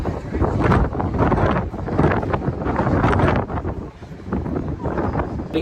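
Strong gusts buffet the microphone on the outdoor deck of the P&O cruise ship Iona, a loud, uneven roar that rises and dips for several seconds with no talking.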